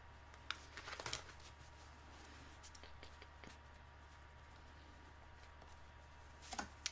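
Tarot cards are shuffled softly at close range, with scattered light flicks and riffles over a quiet, low background hum.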